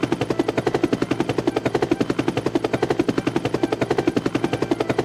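A police helicopter's rotor thumps in a fast, steady rhythmic chop, loud and close throughout.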